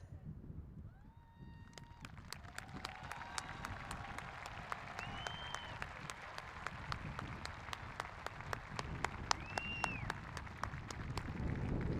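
A large audience at a high school graduation ceremony applauds steadily for students going on to military service, broad sustained clapping from a big crowd, with faint voices and a few whistles or cheers rising above it.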